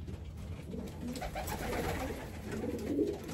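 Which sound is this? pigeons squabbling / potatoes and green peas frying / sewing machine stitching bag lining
pigeons squabbling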